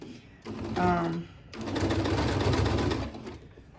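Domestic sewing machine stitching strips of a jelly roll race quilt top, running in two steady, whirring bursts with a brief pause between, close and fairly loud while a person talks over it.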